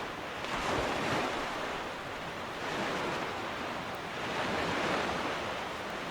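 Ocean waves wash steadily while sailing in the video game Zelda: The Wind Waker, a broad rolling surf with wind-like hiss swelling and easing in slow cycles, continuous and fairly loud with no music or voices.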